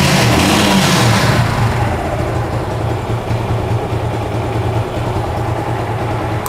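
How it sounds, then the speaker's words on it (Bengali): A Suzuki Gixxer motorcycle with a carburetor engine, started and running at a steady idle, a loud low continuous rumble close by, slightly louder at first, with no talking. "বাইকটা কিন্তু স্টার্ট করা হয়েছে, আর আপনার ইঞ্জিনের সাউন্ডটা শুনতে পাচ্ছেন আশা করি"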